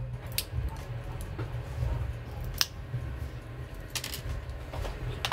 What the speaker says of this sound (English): I'm just gonna snip them down as well.